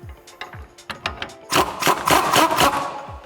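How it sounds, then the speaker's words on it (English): Lower strut bolt being run in while fitting a Pedders eXtreme XA coil-over kit on a 2011-2022 Dodge Challenger: loud, close bursts of rapid mechanical ratcheting and whirring, stopping and starting, then running steadily, with no talking. "Now we'll go on to installing our lower strut bolt. Now I'm just gonna run this in."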